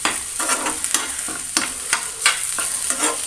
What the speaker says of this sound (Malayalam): നമ്മൾ ഇതേപോലെ ഒന്ന് ഇളക്കി കൊടുക്കാം